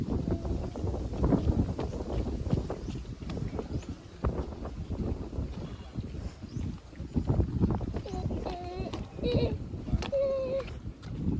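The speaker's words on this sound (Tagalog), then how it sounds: "It's so windy" Wind buffets the microphone steadily on a boat trip at Caliraya, a continuous rough rumble with voices of a family, including a child, talking over it.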